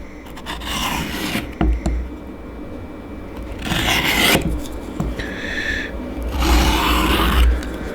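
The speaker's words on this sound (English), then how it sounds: "And give it a few strokes on the fine grit here anyway." A knife drawn in repeated strokes across a fine grit sharpening stone, held flat with 20-degree angle guides: four rasping, scraping passes, close and fairly loud, with brief pauses between them.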